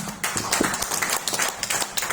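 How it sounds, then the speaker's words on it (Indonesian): An audience at a health presentation in Singkawang claps together in a steady, dense burst of applause lasting a couple of seconds. "Boleh tepuk tangan ya."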